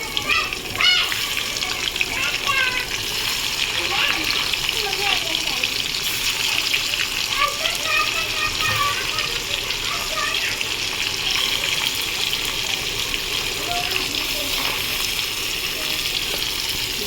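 Nigella seeds and hilsa frying in mustard oil, a dense continuous sizzle and crackle holding steady throughout, close and moderately loud, with no speech over it.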